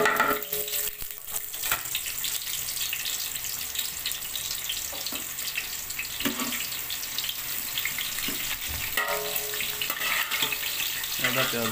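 Chopped onions fry in a large pot of hot ghee for a vegetable pilaf. A continuous soft sizzle and hiss runs throughout, with occasional scraping stirs.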